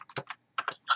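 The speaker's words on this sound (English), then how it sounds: "Sorry for the typing in your ears." Rapid bursts of computer-keyboard typing, heard up close during a Canva design tutorial: a few tight clusters of clicking keystrokes separated by short pauses, with no talking.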